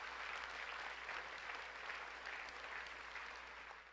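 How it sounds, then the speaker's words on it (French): Audience applause at a mayor's dinner in Victoriaville fills the room, a steady dense wash of clapping that carries on evenly and begins to taper toward the end. "Je crois qu'on peut les applaudir."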